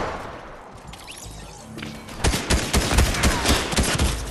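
Shotgun blasts ring out in Fortnite, a burst of sharp, loud reports starting about halfway through after a quieter, hissy lead-in.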